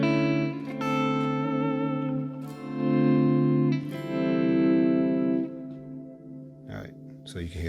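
Electric guitar played through a Ganymede chamber reverb pedal: sustained chords and single notes that ring out with a lush, spacious wash, swelling and decaying over several seconds with a brief gap near the end.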